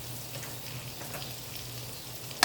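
Butter and a little oil sizzling in a pan, ready for shrimp, a steady close hiss with light crackles and a low hum underneath, ending in a sharp click, with no talk.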